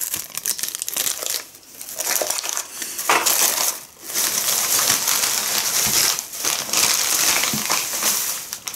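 A plastic packet of sourdough starter crinkles and crackles close up, handled in bursts of crisp rustling with brief pauses between.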